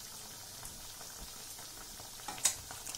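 Sweet appam frying in oil, a faint steady bubbling and crackle with a brief louder spatter near the end, no talk.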